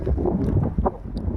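Wind on a hilltop gusts against the microphone, making a close, low, buffeting rumble that swells and dips through the brief moment.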